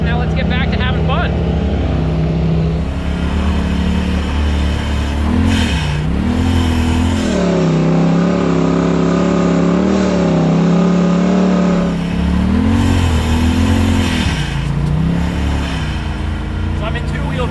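A side-by-side UTV in two-wheel drive on an icy winter trail revs loudly and close, its engine note climbing and dipping in repeated surges over a steady throttle drone.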